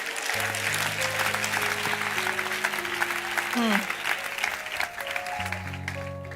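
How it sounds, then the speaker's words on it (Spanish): Steady applause from a church congregation fills the space while a sustained organ or keyboard chord plays underneath, with a voice briefly audible. "Dele fuerte el aplauso al Señor."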